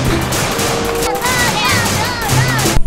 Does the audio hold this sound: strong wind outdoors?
no